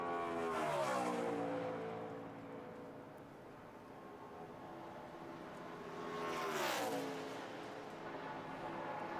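A NASCAR Nationwide Series race car laps Texas in qualifying, sliding up the track through the corner; its engine roars loud and steady, dips slightly mid-corner, then swells again as it passes close by.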